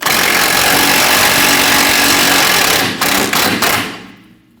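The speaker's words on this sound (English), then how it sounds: "Using an 18mm socket, we're going to remove the bolt." A shock absorber bolt is removed with an 18mm socket on a 2012-2022 Volkswagen Passat, making a loud, continuous rattling power-tool whir that runs for about four seconds, sputters through a few short breaks, then cuts off.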